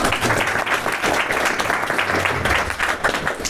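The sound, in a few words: audience applause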